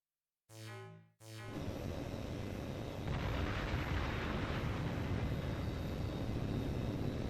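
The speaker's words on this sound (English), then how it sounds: "That explosion was no accident." A plane explosion in the Tom Clancy HAWX 2 video game: a brief tonal burst, a short cutoff, then a loud blast that settles into a sustained, roaring, noisy rumble lasting several seconds.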